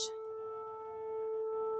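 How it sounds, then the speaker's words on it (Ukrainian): Air raid sirens hold a steady, sustained wailing tone at constant loudness for the whole stretch, with a brief higher hiss at the very start. "Ой, ці сирени, сирени."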